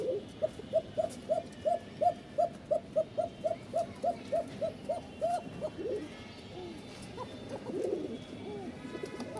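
A Rajshahi Bashiraj kokka pigeon gives a thin, rhythmic series of about twenty cooing calls close by, spaced evenly over several seconds, then fading into quieter background sounds.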